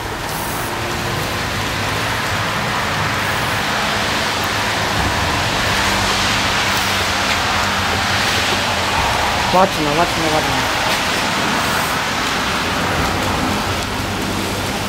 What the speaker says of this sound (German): Ja, es regnet, es ist kalt draußen.